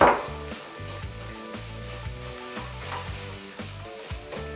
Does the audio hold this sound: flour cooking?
yes